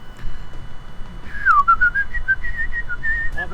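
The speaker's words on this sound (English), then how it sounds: "I should whistle something classy." A character whistles a short melodic tune in the point-and-click adventure game Hector: Badge of Carnage. The clear, rising and falling notes sound alone over a steady low background hum.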